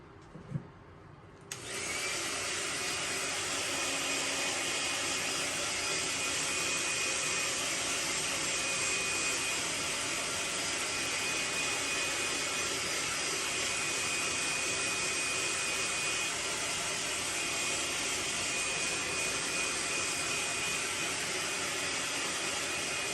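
A heat gun blows steadily and loudly at close range as it heat-sets fresh paint on a bike crank, starting after a brief click and then holding one continuous, unbroken whoosh with no talking.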